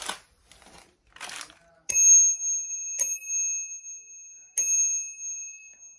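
A bicycle bell for a Japanese bike rings three times, each a bright metallic ding that rings on and fades, after some soft crinkling handling noise.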